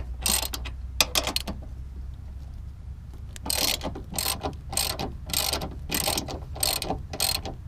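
A ratchet loosening the strut tower nuts on a 2005-2014 Mustang, a series of quick close clicking bursts, a few early and then a steady run of about eight regular strokes, with no voices.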